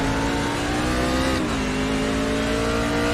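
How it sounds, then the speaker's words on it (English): A race truck engine roars loud and steady at Martinsville Speedway, its pitch dropping briefly partway through as the driver downshifts into third gear. "He shifted down into 3rd gear."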